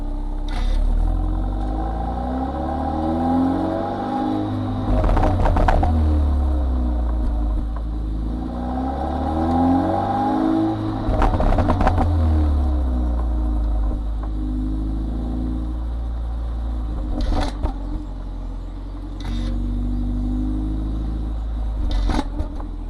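A BMW 228i engine revs repeatedly in bursts, rising and falling, with a deep, throaty factory exhaust rumble through an open valve and sharp gargling crackles between revs.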